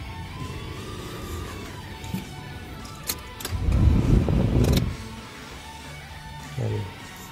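A Mitsubishi Adventure engine cranks briefly and catches, settling into a low idle; keys jangle and small clicks come before the start, and a short burst follows near the end.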